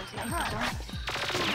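Gunfire from the video game Perfect Dark comes as a rapid burst of sharp repeated shots with a metallic ring, loud and close, lasting little more than a second.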